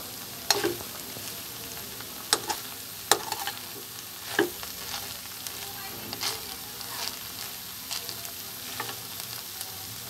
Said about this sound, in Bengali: এখন এর মধ্যে দিয়ে দিয়েছি পেস্তা বাদাম। কিছুক্ষণ নেড়ে চেড়ে রান্না করে নেব।